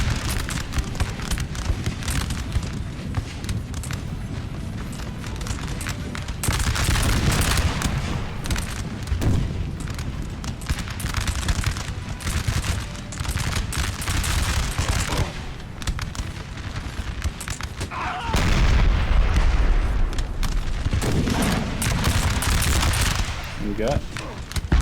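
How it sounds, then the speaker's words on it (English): Napoleonic-era cannon fire and musket volleys from the strategy game Napoleon: Total War, a dense, continuous barrage of booms and crackling shots with heavier bursts partway through, loud and sustained throughout. "They're firing cannonballs still."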